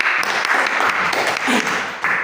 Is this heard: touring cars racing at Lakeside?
no